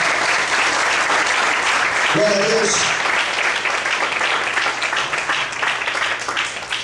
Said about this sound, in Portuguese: Você pode aplaudir a Deus nessa noite?